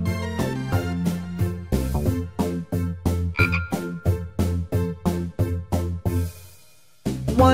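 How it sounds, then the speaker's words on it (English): A frog croaks in a steady, fast series of loud, rasping pulses, about two per second, close and continuous, with a brief pause near the end before the croaking starts again. "Then there was just one speckled frog."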